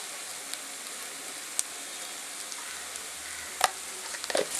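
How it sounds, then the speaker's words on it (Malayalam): Crushed black pepper sautéing with onions in a pan for Kerala beef roast, a soft steady sizzle and crackle throughout with a few faint clinks of a utensil near the end. "ഇനി കുരുമുളകും കൂടി ഇട്ടിട്ടൊന്ന് വഴറ്റിയെടുക്കണം."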